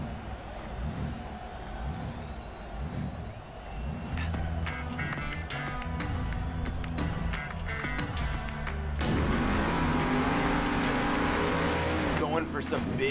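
Monster truck engine in the game Monster Jam Steel Titans 2, revving loudly and continuously with rising and falling roars as the truck catches air, pulls a wheelie and spins.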